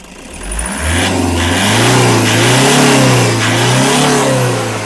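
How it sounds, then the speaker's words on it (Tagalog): A repaired Toyota Hiace van engine, previously low on power, revs up loudly and holds a high, surging roar, rising and falling slightly as the throttle is worked, close to the engine with no talking. "At napaka-responsive na po ng makina nito."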